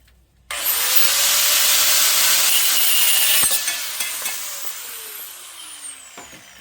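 A scrap metal piece being cut with a power tool for a homemade kite buggy, a loud whining, rasping cut starting abruptly after a quiet moment, the tone gliding downward as the blade slows, with clicks near the end.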